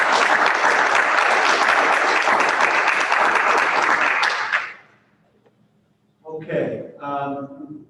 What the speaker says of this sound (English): we will give you as loud as a 6-person clap can give you virtually